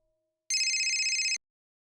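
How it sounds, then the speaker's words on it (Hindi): A mobile phone rings with an incoming call in a tense Crime Patrol drama scene: one short, bright electronic ring burst, clear and close, in an otherwise silent room. "बात कर रहे तेरे फोन आ गया इसका"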